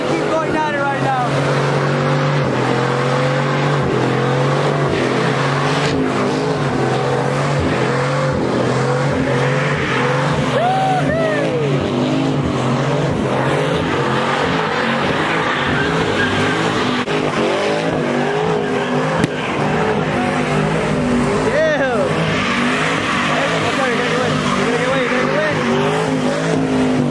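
Cars at a rainy outdoor car meet rev hard and skid, engines rising and falling in repeated bursts with tire squeal over heavy rain and crowd noise, voices shouting throughout.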